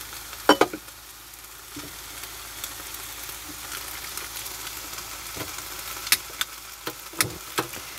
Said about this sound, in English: some more butter in it. I'll put those eggs on